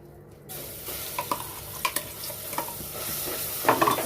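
Ground peanut paste hits hot ghee with a sudden sizzle for a peanut aamti, then keeps crackling steadily with scattered sharp pops and spatters, fairly close and without talk.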